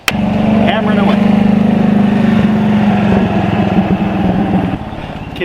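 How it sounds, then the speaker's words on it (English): Small golf cart engine buzzing steadily nearby, a droning motor that holds for several seconds and then eases off, with a voice talking over it. "Kid driving a golf cart."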